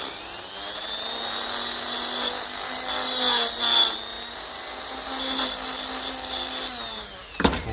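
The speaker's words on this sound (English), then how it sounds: "we'll just give that a quick clean in there with the Dremel and the little wire brush" A Dremel rotary tool spinning a small wire brush to clean a part of a Ferguson TEF 20 tractor's diesel pump: steady high-pitched whine with rising and falling load as the brush bears on metal, ending in a brief clatter.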